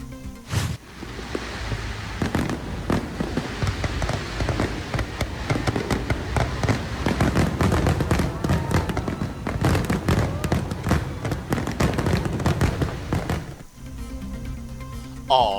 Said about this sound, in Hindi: तकरीब के दौरान आतिशबाजी का भी शानदार मुजाहिरा।